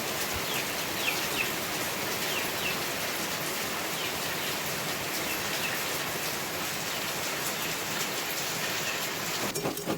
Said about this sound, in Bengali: বাইরে শুরু হয়েছে বৃষ্টি একদম সকাল সকাল মসুলধারে বৃষ্টি শুরু হয়েছে